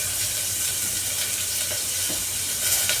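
Papaya pieces frying in a pan with ginger for a papaya and red lentil dal give off a steady, close, loud sizzle throughout, with faint stirring clicks in the background.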